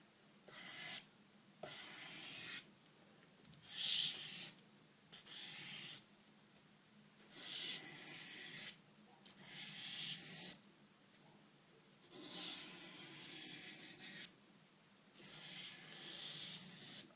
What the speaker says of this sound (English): I'm not a big talker when I sharpen my knives